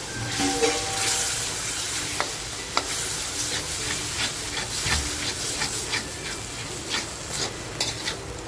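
Mutton stock goes into roasted masala in a hot pan for mutton curry, setting off a close, steady sizzle and hiss with occasional clinks and scrapes of stirring.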